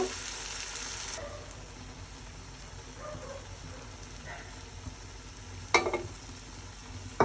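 Vegetables with a little tomato ketchup stir-frying for fried rice, heard as a quiet, even sizzle with soft stirring scrapes and a couple of sharper utensil knocks near the end.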